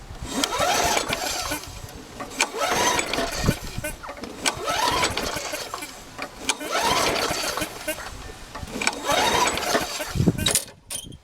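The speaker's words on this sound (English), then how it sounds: "First attempt to start the trash pick Murray at Emerald Beach, North Carolina." Repeated pull-starts of a curbside-found Murray 20-inch lawn mower with a Briggs & Stratton 300 Series engine, about five rhythmic cord yanks with brief sputtering turnover that never catches, heard up close.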